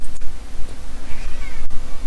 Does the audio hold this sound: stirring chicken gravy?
no